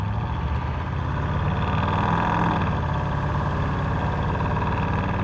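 A 1978 Chevrolet Corvette C3 L-48 V8 with a three-speed THM 400 automatic pulls away, a steady low engine drone rising slightly in the middle and holding loud and close throughout, with no talking.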